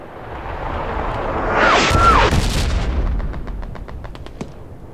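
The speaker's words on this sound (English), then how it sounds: "Command, can you tell them to cease fire on the artillery?" Artillery fire in the World War II shooter Hell Let Loose, set in Hurtgen Forest: a loud rumbling blast swells and fades, followed by a string of sharp distant cracks and reports, with no voices.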